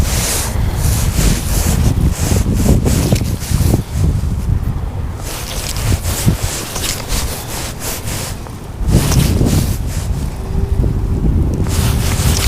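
Strong wind buffets a fishing boat out on the water in January, a constant loud roar of gusts across the microphone with a brief lull and renewed rush, no voices.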